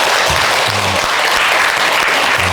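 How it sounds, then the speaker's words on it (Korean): A lecture audience at a Buddhist dharma talk in Gwangju breaks into loud, dense clapping that fills the room without letup. "여러분 박수 한번 주십시오"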